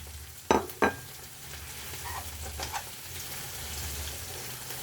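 Okra frying in a pan after onions and pepper in vegetable oil, with a soft continuous sizzle, two sharp spoon knocks near the start and lighter stirring scrapes afterward.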